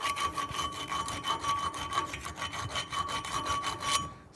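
Slag being chipped and brushed off a 6010/7018 pipe weld in the 6G position gives a steady fast rhythmic scraping rasp, close and continuous, ending abruptly.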